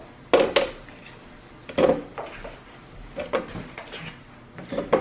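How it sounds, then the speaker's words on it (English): Carrots clattering into a Luxear plastic produce storage container, a few sharp hard knocks and thuds spaced irregularly, close up. "I have some carrots that I'm gonna place in here."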